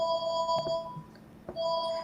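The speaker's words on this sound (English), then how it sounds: "We don't know where the phones are or why someone would be ringing." A telephone ringing in a house, with bright tonal rings that stop briefly and then start again, at moderate volume and heard alone.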